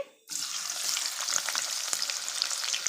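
Sliced onions sizzle steadily in hot oil for a Muslim-style country chicken dum biryani, a dense continuous crackle with occasional sharper pops, close and alone after a brief quiet start.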